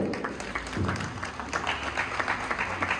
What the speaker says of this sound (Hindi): कृपया उनका तालियों के साथ स्वागत करें।